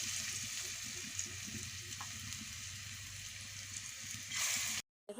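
Coconut fritters frying in hot oil, a steady soft sizzle and bubbling heard close up, with a brief louder surge near the end before a short cut.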